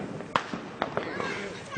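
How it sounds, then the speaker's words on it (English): Firecrackers pop in a backyard fireworks session, a few sharp cracks at uneven intervals over a steady noisy background, with people talking nearby. "Firecrackers."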